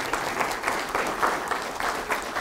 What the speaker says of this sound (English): A round of applause for creating some jobs here.